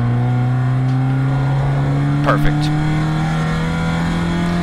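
Race car on the long straightaway at MSR Houston, engine holding a steady loud drone as it carries speed on power, heard from inside the car with a brief word spoken over it.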